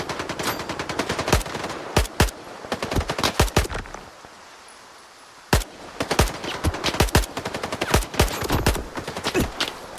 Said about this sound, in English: It was a forlorn hope that I'd kill him with one single pistol shot from that distance.